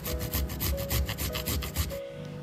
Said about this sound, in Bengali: গ্রেটারের সাহায্যে আদা ঘষে নিচ্ছি।